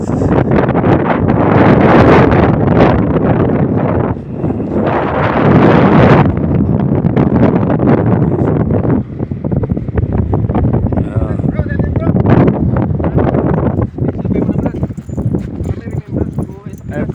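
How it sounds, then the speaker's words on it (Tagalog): Heavy wind at the sea buffeting the microphone in loud gusts, with rustling and brief stretches of talk. "Sarap ng simoy ng hangin guys."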